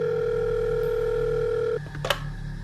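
A telephone tone sounds loud and steady while a call is placed to an airport, then cuts off abruptly and gives way to a brief burst of clicks and noise.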